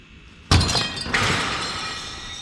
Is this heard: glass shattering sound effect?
yes